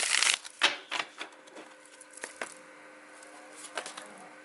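Riffling tarot card shuffles in quick bursts of crisp papery patter, close by, separated by brief quieter pauses.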